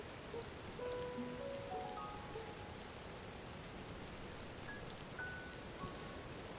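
Steady rain pattering on a surface in the video game Zelda: Tears of the Kingdom, with a few faint tonal beeps drifting in and out, no voices.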